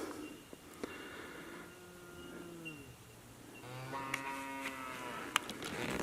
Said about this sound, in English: Somewhere behind me, just heard a cow bellowing.